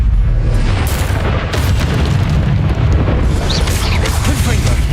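The Confringo spell in Hogwarts Legacy explodes with a loud, sustained booming roar and crackling debris, dense and close throughout, with a voice speaking over it.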